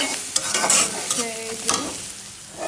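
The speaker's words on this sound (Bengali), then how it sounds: "পেঁয়াজগুলোকে এখন বেরেস্তা করে নেব" A soft, steady sizzle of onions frying crisp in hot oil, with a few scraping stirs of a spatula against the pan.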